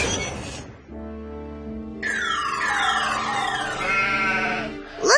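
Cartoon sheep bleat over a sustained musical backdrop, with wavering, sweeping cries that rise and fall for several seconds at a steady, fairly loud level with no talking.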